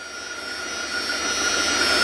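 A 2000 Dodge Ram Van B1500 idles with an idle control fault, a steady loud hiss of leaking air over a whining tone, growing slightly louder, with no voices.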